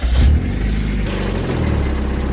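A Mazda Miata engine starting up after a repair to a car stuck in reverse: a loud close cranking burst followed by a steady rumbling idle.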